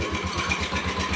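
An RKS 150 motorcycle engine, running again after two years in storage, chugs in a steady rapid pulsing rhythm, close and moderately loud, with no voices over it.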